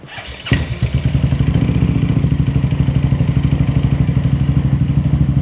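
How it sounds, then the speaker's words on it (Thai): A Honda Forza scooter fitted with a Mitsuboshi drive belt starts with a quick crank and thump, then settles into a loud, close, even idle with a rapid steady putter. "สตาร์ทเครื่อง"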